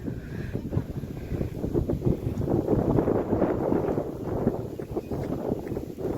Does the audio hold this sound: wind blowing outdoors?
yes